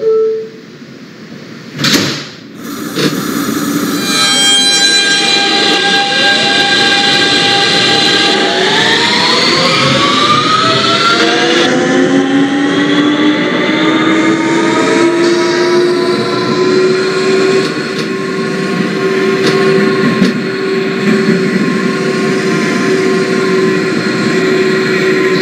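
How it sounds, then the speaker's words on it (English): An R160B Siemens subway train on the R line toward Forest Hills-71st Avenue in the OpenBVE train simulator: a few knocks and a door thump, then a loud, steady electric motor whine that climbs in pitch as the train speeds up, with no talking. "Is a Queensbound R train."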